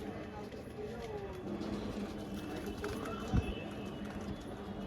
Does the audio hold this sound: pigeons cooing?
yes